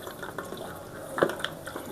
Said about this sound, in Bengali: এ দেখেন প্রাণ আড়ংয়ের ফুল ক্রিম দুধ আমি ঢেলে দিচ্ছি।